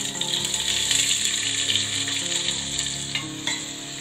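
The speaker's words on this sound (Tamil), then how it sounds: "இப்போ இதை சேர்த்து வதக்கலாம்." A chopped large onion and two green chillies sauté in a hot pan, giving a constant close-up sizzle and crackle with occasional stirring clatter and no voices.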